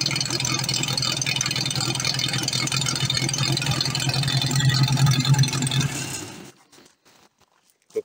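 A small engine, apparently a firefighters' machine, runs loudly and steadily for about six seconds with a rough, revving drone, then cuts off abruptly into near silence.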